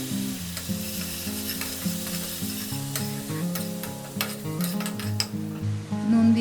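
Tomato puree sizzles and spatters in a hot pan with spices for a Bengali fish curry, a crackling, bubbling fry with occasional stirring clinks, close and steady, under a soft background hum.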